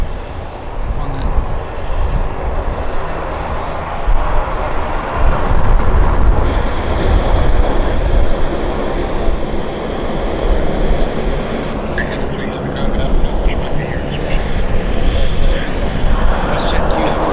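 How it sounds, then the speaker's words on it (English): A WestJet Q400 turboprop taxis onto the active runway at Vancouver airport, giving a loud, continuous engine drone that swells and eases, with a person talking over it. "WestJet Q400 turning onto the active right now."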